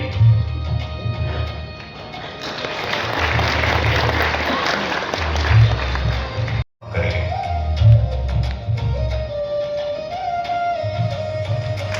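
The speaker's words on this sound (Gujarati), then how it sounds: "આપણે તાળીઓથી એમને આવકારીએ, ખૂબ ખૂબ સ્વાગત કરીએ છીએ" Applause greets a guest at a district-level Van Mahotsav forest festival ceremony in Bharuch, sustained clapping from a gathered crowd with a loud, low-pitched PA voice speaking over it throughout, broken by a brief dropout.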